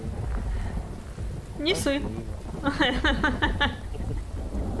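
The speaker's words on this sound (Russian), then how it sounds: "Это не я, Катя, это дождь." Steady rain and low rumbling thunder in the Phasmophobia horror game, a broad constant wash beneath voices talking over it.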